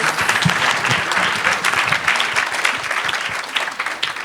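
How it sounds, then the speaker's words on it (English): A studio audience claps in a loud, sustained round of applause that fades a little toward the end, with no voices over it. "Everybody, a big round of applause."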